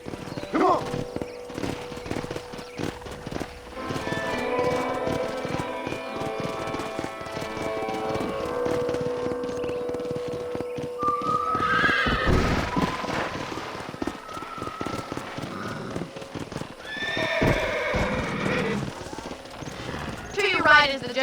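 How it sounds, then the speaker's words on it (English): Horse hooves clip-clop steadily with an occasional whinny in the Western video game Red Dead Redemption, set on a ranch property, with background music and voices talking over it. "I picked out a fine horse for you."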